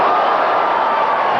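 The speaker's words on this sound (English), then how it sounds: "The crowd come to life when Johnny lands the uppercut." A boxing arena crowd at a world super flyweight bout featuring Johnny Tapia, a loud, steady roar of cheering that fills the whole moment without pause.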